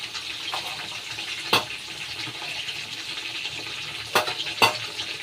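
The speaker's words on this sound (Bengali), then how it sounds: "এগুলো দিয়ে দিয়ে এবারে একসাথে ভাজা হোক।" Cauliflower pieces frying together with other ingredients in a pan of oil, a constant close sizzle broken by a few sharp scrapes or clinks.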